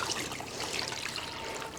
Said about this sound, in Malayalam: ഒരല്പം വെള്ളം കൂടെ ഒഴിച്ചു കൊടുക്കുകയാണ്